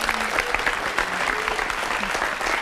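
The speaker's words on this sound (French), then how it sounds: "Et on peut l'applaudir parce que c'est numéro." A television studio audience applauding a talent-show act with a trained animal, dense steady clapping throughout, with faint voices underneath.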